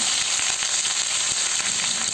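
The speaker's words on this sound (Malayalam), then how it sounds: "ഉലുവയും കടുവും നല്ലതുപോലെ പൊട്ടിക്കഴിയുമ്പോൾ ഇതിലേക്ക് കുറച്ച് കൂടുതൽ കറിവേപ്പില ചേർക്കുക" Curry leaves hit hot oil already crackling with mustard seeds and fenugreek, a loud, steady, close sizzle with fine crackling throughout and no voices.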